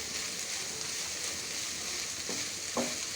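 Capsicum frying in a pan, a steady close hiss and sizzle with faint stirring scrapes near the end and no talking.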